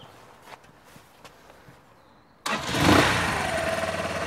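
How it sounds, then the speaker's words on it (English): A Lexmoto Venom SK125-22 125cc motorcycle engine fires up suddenly after a quiet stretch with faint footsteps, then settles into a loud, steady idle close by. "Starts for the first time."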